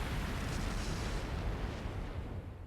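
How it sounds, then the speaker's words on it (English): A flash grenade goes off in the video game Trails of Cold Steel III, filling the clip with a loud, sustained blast and roaring rumble that slowly thins toward the end, with no voices. "Flash grenade! Everyone down!"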